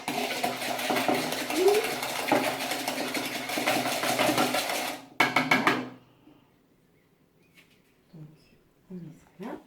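Mascarpone, strawberry and melon get mixed in a Tupperware bowl: a steady churning, whirring scrape for about five seconds, then a few quick rattles and soft clatters against near silence.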